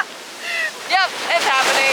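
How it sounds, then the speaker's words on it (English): Ocean waves break on a Miami beach as a loud, steady roar of surf and wind. Excited voices cry out briefly over the rushing water. "These waves are crazy, y'all."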